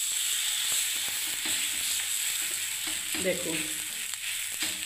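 An oats chilla sizzles in hot oil in a pan, a steady close frying hiss with small clicks and scraping taps from the utensil, while someone speaks a word briefly.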